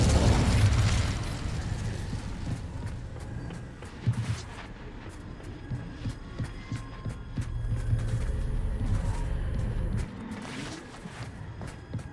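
A fire spell cast in Hogwarts Legacy: a loud roaring burst at the start that settles into a crackling, rumbling blaze, with sharp pops and clicks scattered through the following seconds.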